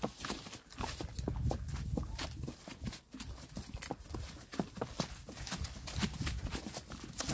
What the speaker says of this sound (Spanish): Este caballo puede caminar más ligero.